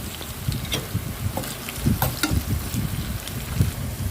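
Cumin seeds sizzling in hot oil for tempering a dhaba-style mixed moong and masoor dal, a steady close frying hiss with occasional crackles and light stirring clinks.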